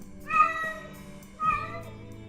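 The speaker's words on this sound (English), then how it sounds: "Maybe you're a cat lover." A domestic cat meows twice in quick succession, two clear, close, tonal cries about a second apart, isolated as a sound effect.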